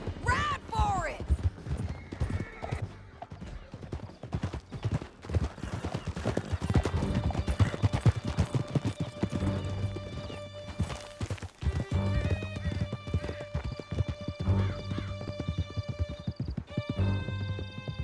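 Horses gallop in the video game Red Dead Redemption 2, with steady clip-clop hoofbeats, occasional whinnies and neighs, and a music score rising beneath. Voices speak at times.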